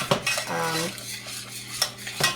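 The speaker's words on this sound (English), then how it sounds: "So I'm stirring constantly, medium high" Fudge candy stirred constantly in a pot over medium-high heat, a spoon scraping and clinking against the metal with a brief squeak, several distinct knocks at an irregular pace, close up.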